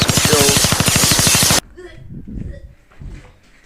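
Rapid automatic gunfire from a video game set on the Syrian border, loud and steady for about a second and a half before cutting off, followed by quieter scattered game sounds and faint voices.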